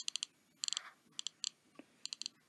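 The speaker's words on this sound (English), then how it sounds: "That's the sound of the third-gen click-wheel mix." A third-generation iPod Classic from around 2004 produces crisp, bright mechanical clicks from its click wheel in short quick bursts of two to four, spaced by brief pauses, close and fairly quiet with no talking.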